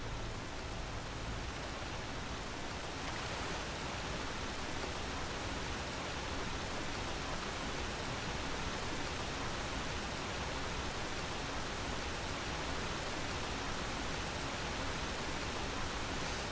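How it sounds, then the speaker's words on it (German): A waterfall in the video game Enderal, a Skyrim mod, gives a steady, broad rushing roar of falling water, even and unbroken throughout, with no voices. "ein Wasserfall"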